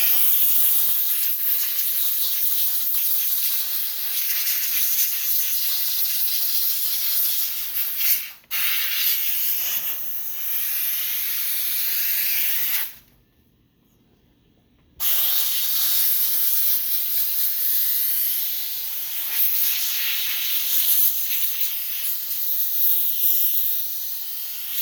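A Grant's handheld steam cleaner steams windows with a continuous close hiss that stops briefly twice, once for a moment and once for about two seconds, then resumes.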